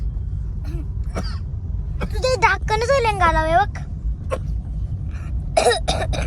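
Several short coughs and throat clearings break up ongoing conversation inside a moving vehicle, close and fairly loud.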